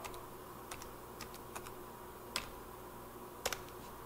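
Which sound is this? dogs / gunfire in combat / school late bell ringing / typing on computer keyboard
typing on computer keyboard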